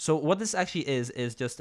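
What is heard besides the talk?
None of the usual background noises is heard.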